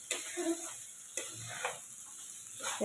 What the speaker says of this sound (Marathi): छान असं पुरण परतले